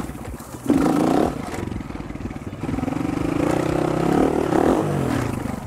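A dirt bike engine buzzes and revs up and down close by on light throttle, with clattering and scraping from the ride over rough ground.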